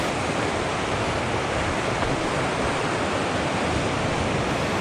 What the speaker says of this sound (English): watch these waves crash for a little bit